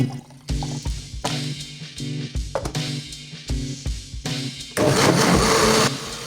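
A blender pulping water-soaked cardboard whirs in short pulsed bursts, stopping and starting several times before running in one long, louder continuous grind at the end.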